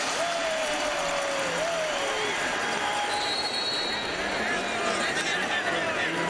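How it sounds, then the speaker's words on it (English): Stadium crowd at a CFL game between the BC Lions and Saskatchewan Roughriders cheering and applauding a returning player, a dense, steady roar of fans filling the whole stretch with a commentator talking over it. "the fans give him a welcome to Saskatchewan cheer"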